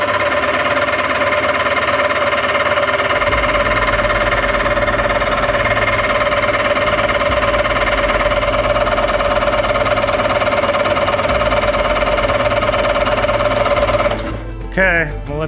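Electric starter cranking a 1990s two-stroke jetski engine: a loud, steady whirring drone that runs for about fourteen seconds without catching, then cuts off abruptly.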